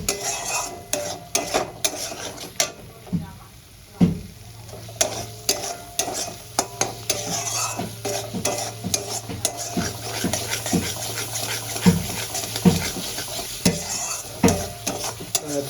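Spice masala is stir-fried in a pan for potato and egg curry, with a steady sizzle beneath repeated scraping and clinking spatula strokes against the metal, close and fairly loud throughout.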